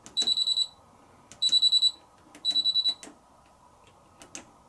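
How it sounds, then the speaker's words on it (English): Miele Professional PT5137WP 6.5kg heat pump condenser tumble dryer end buzzer sounding three loud, close bursts of rapid high beeps, each about half a second long, with a fainter click near the end. "Then we've got the buzzer, which again is the end beeper."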